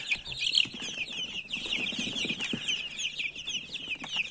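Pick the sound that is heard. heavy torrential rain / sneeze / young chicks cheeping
young chicks cheeping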